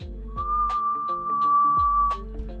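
A thin, steady whistle made through the lips holds one high pitch for nearly two seconds, loud and close, over a low background hum with a few soft clicks.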